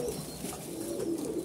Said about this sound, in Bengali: এখানে কবুতর খাওয়ার জন্য পুরা উতলা হয়ে আছে, খাওয়ার জন্য পুরা পাগল হয়ে আছে